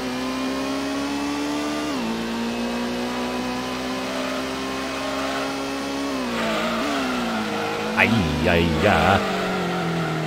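A racing car engine in Gran Turismo on the PlayStation drones at high revs with steady harmonic tones that dip with gear changes, while tire squeals come in near the end and a voice speaks briefly.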